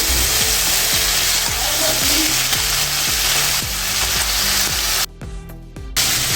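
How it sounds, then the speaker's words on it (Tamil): Marinated prawns fry in hot oil in a pan, a loud, close, continuous sizzle with crackling throughout, briefly dipping near the end. "இப்போ நம்ம ஊற வச்சுருக்கிற இந்த இறாலையும் அதில் சேர்த்துக்கலாம்."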